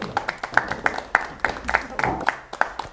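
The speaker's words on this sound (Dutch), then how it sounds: "Geef haar een hartelijk applaus." Sparse, separate handclaps from a small studio audience greet a guest on an economics TV talk show, with a few people talking over the uneven, spaced-out claps.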